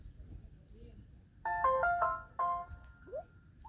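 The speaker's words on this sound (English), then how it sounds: "You can barely hear the startup sound." A short melodic electronic chime of a few bright tones plays from a phone, quiet but clear over faint background noise.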